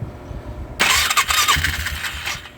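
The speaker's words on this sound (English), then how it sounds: "Okay, well it sounds like it cranks just fine." The electric starter of a Polaris Magnum 325 ATV cranks briefly, then the small engine fires and clatters with a rough, uneven idle, close by.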